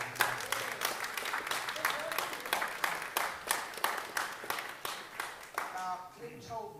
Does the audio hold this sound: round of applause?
yes